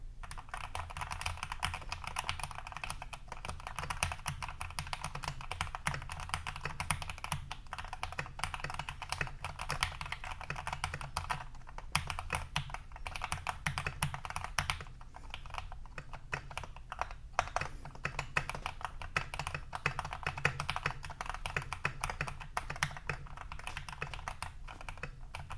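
Steady typing on a Keychron K8 Pro mechanical keyboard, with dense, continuous key clacks and no pauses, close and clear.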